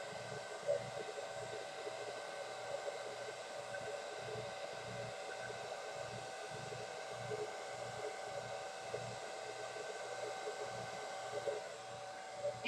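A hair dryer blows heat onto curled hair, giving a steady, moderately loud whirring drone with a faint low pulsing that holds unbroken for the whole stretch.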